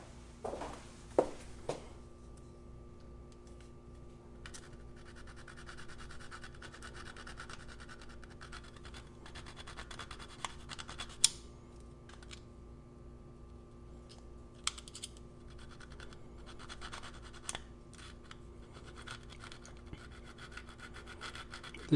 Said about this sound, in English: Just trying to take off that little bit of corrosion.